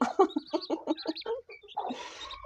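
Hens cluck in a quick, uneven series of short calls, fairly close, with a brief rustling burst at the end.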